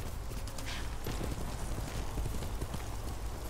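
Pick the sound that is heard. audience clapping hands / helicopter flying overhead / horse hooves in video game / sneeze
horse hooves in video game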